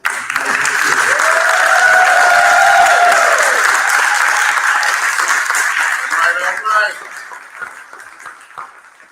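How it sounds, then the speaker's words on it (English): Audience applause fills a 5th grade promotion ceremony, steady and loud for several seconds before tapering off, with a voice speaking briefly over the clapping. "Give a huge round of applause."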